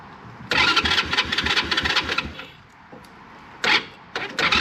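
A Venom X19 super pocket bike with a clone carburetor cold-starts after sitting, sputtering into a rough, loud running burst that fades, then revving again in short blips up close.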